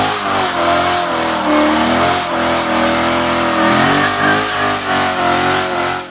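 A naturally aspirated 5.0-litre all-aluminium V8 with variable valve timing revs loudly and close, its deep rumble rising and falling in pitch through several throttle blips with no talk.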